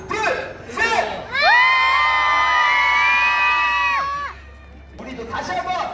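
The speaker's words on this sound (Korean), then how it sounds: "자, 우리 아울렛에 계신 분들도 함성 소리 한번 들어보도록 할게요." Crowd at an outlet mall shouting and cheering together before a fireworks show, a long loud sustained roar of many voices with children's shrieks, bracketed by amplified talk from a host.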